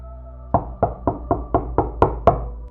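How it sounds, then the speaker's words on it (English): Eight forceful knocks on a door in an even, steady rhythm, each one sharp and close, with the last few a little harder. "The man started knocking the door forcefully."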